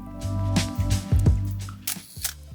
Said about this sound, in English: we'll add a camera shutter sound effect.